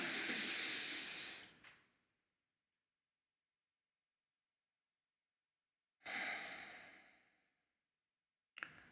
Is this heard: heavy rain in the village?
no